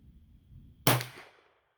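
A single sharp gunshot from a .32 rimfire Remington rolling block rifle, a sudden crack with a short ringing decay after a quiet outdoor pause.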